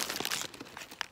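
A paper bag is crumpled and handled, with crisp crinkling bursts, a dense flurry at first and then scattered crackles close up.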